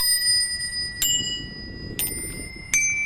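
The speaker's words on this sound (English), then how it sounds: "The things that I can't live without are my bells. I've got 4 of them." Four bright bicycle bells, each struck once in turn, dinging with ringing tones that linger, heard close and clear over faint background noise.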